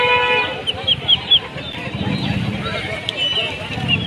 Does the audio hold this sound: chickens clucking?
yes